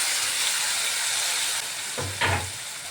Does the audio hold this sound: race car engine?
no